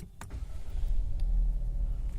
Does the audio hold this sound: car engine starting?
yes